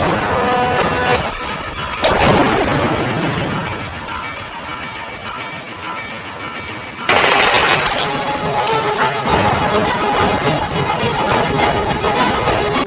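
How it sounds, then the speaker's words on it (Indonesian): Gunfire in a shootout between two FBI agents and a Chinese triad in the 2007 film War, heard as dense crackling shots and crashes over a continuous loud action-scene mix, with two sharper surges of noise. "Film diawali dengan aksi baku tembak dua anggota FBI bernama John dan Tom yang tengah melawan pasukan triad dari Tiongkok."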